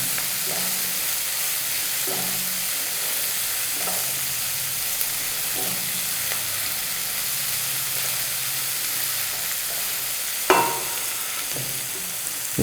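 Sliced onions fry with a pinch of salt in a pan for a Tamil brinjal kosumalli, giving a steady close sizzle with light stirring clicks and one sharp clink of a utensil near the end.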